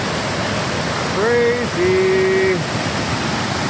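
Heavy rain-fed water rushes over a waterfall in a steady, loud broadband roar that runs throughout, with someone briefly speaking over it.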